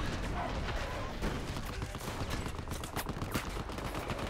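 Gunfire in the video game Battlefield Hardline: a dense, unbroken rattle of rapid shots, loud and close, with crackling impacts layered throughout.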